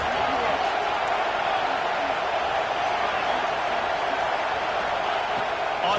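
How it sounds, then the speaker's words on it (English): A stadium crowd roars at a Georgia football game as the defense takes the field, a dense, continuous rumble of voices holding steady and loud throughout. "Listen to this crowd just shaking the girders of this place trying to help their defense."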